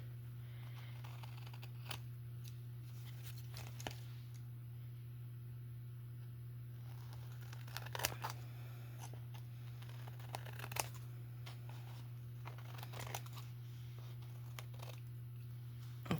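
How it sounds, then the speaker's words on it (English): Scissors trimming around the edges of paper pages for a woven-page scrap project, heard as scattered faint snips and light paper rustles over a steady low electrical hum, with no talking. "then you cut around these edges to make a nice crisp edge."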